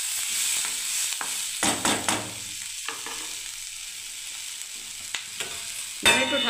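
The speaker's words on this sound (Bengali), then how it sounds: "দেখুন এই ভেজে নিচ্ছি তেলে" Chana dal fritters for a cabbage curry frying in hot oil, a steady close sizzle broken by several sharp stirring and spatula clatters, with no voices.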